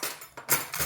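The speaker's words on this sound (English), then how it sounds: "let me get a fork" A fork is picked up from among metal cutlery, giving a few short, close, bright clinks over about a second.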